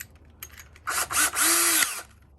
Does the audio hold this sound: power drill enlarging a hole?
yes